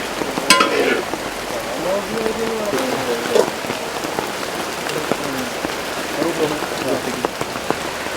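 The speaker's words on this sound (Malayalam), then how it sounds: "അപ്പോൾ നല്ല മഴ പെയ്യുന്നുണ്ട്" Heavy rain pours down in a steady, dense hiss with constant patter on surfaces, holding an even level for the whole stretch, with faint murmurs in the background.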